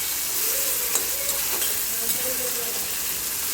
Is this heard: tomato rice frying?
yes